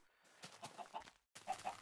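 Chickens clucking in Minecraft, a few soft, close clucks in quick succession, broken by a brief silence, then two more clucks.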